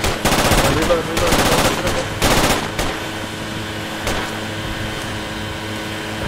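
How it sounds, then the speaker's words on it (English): Heavy automatic gunfire from enemy troops in the military shooter Project Reality, loud bursts of rapid shots in several volleys, then fading to quieter distant pops. "Oh, enemy fire."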